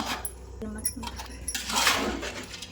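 Metal spoon clinking and scraping against a pot of rice, a few distinct taps followed by a rougher stirring sound, fairly faint.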